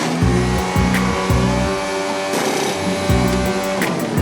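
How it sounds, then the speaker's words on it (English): A Mercedes Formula 1 race car at the Monaco Grand Prix, heard as loud rising and falling engine pulses that repeat across the stretch, with a sharp high burst near the middle, and no talk over it. "Here comes the Mercedes of Lewis Hamilton."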